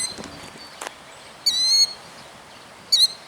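Killdeer near its nest of eggs gives two sharp, high calls with a faint chirp earlier, clear over quiet outdoor background.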